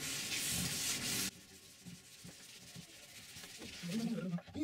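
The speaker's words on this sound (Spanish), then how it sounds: "Una vez que secó ya, vamos a suavizarlo con un lijar 220." Wood being hand-sanded with 220 grit sandpaper to smooth a lacquered floating wooden coat rack, a loud steady rasping at first that stops abruptly, followed by quieter intermittent rubbing strokes and some low background sound.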